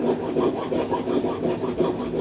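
Waste cardboard being cut in quick rhythmic strokes, a rough sawing rasp repeating about every quarter second, loud and close with no voices.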